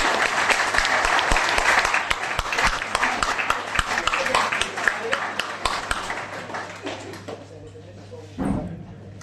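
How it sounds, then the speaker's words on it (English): A crowd applauds at a Keighley Cougars hall of fame induction, with loud, dense clapping that gradually thins out, ending in scattered claps and a single low thump near the close. "we'll give one big further round of applause for everyone here"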